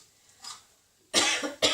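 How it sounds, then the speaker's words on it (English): A faint throat sound, then two sharp, close coughs brought on by strong chili, in quick succession, the first longer and harsher than the second. "That chili's still making me cough."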